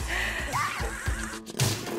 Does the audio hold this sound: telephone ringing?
no